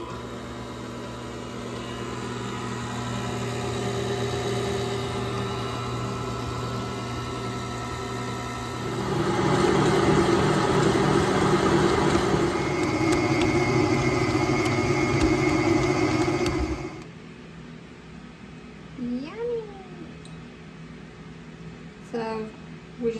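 A stand mixer motor whirs and hums steadily as its dough hook kneads sticky bread dough, growing louder midway, then shuts off, leaving a quieter room with a few faint sounds.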